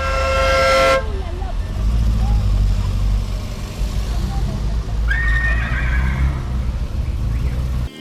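Car horns honk at a vintage car rally parade through a town centre, a loud tonal blast at the start and another later, over rumbling crowd and street noise with voices.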